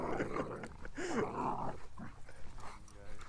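A huge pitbull and a long-furred German Shepherd play fighting, with close, rough growls and snarling bursts mixed with people talking over the scuffle.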